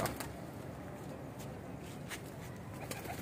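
Pigeons, sturdy-boned flying breed, coo in a low, steady murmur that runs unbroken throughout, with faint higher chirps over the top.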